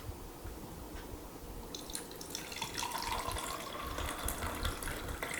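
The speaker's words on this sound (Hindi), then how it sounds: "ये देखिए, ये पानी डाल रहे हैं।" Water is poured in a steady splashing stream that grows fuller and louder partway through, with no talking.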